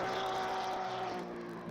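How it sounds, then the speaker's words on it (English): Race car engines roar loudly and steadily in a PS5 racing game at Silverstone, a dense continuous whine with shifting pitch and no one talking. "the cars are too loud"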